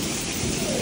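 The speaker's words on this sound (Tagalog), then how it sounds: "Biglang bumuhos ang malakas na ulan dito sa amin ngayon guys." A sudden heavy rain downpour roars as a dense, unbroken wash of sound, loud and steady for a brief moment with no talking.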